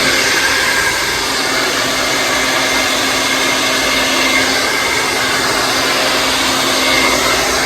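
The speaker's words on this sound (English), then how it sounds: "Put it in, turn it, follow with the blow dryer." A hair dryer blows steadily and close up during a salon blowout, a constant broadband whoosh with a faint motor hum, running without pause and no voices.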